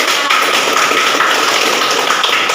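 A classroom of students claps for a group after its presentation, brisk loud applause from many hands close by, continuous and even.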